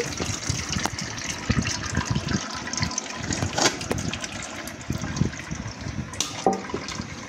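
Wet, gushing splashes of thick tamarind pulp poured and sloshing into a strainer set over a bowl, continuous and close, with occasional knocks against the bowl.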